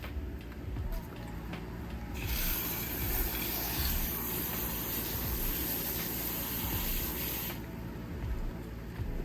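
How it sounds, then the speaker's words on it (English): A garden water hose sprays onto dry peat moss for a Venus flytrap, a steady broad hiss of running water that swells for several seconds then eases, close and continuous over low background rumble. "I'm gonna go grab the water hose and wet it real quick"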